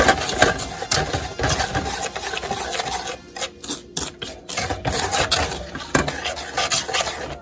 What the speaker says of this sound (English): we're going to whisk this together